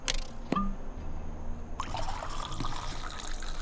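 Liquor trickles into a glass in the video game Saloon Simulator, a light, steady pour that starts after a brief clink and runs continuously for a few seconds with no voices.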